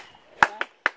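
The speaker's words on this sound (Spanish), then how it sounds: "Voy a pegar unos dos aplausos para que abra la cortina." Sharp, close hand claps ring out in a quiet room, three distinct smacks in quick uneven rhythm within about half a second, given as a cue to open a stage curtain.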